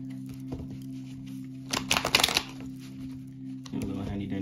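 A deck of tarot cards is shuffled in a short riffling burst near the middle, with a low steady hum underneath and a bit of soft handling before and after.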